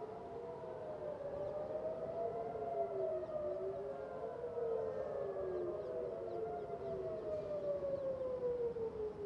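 Air raid warning sirens sound over the central Galilee during rocket fire from southern Lebanon, several overlapping wailing tones rising and falling steadily and continuously at a distance, with no talk.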